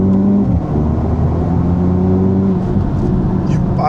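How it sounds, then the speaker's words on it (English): A 2025 Mercedes-AMG GT 43 hums steadily with close engine induction and a quiet exhaust note, an airy whooshing drone under what sounds like talking. "Does create this very interesting induction noise or exhaust."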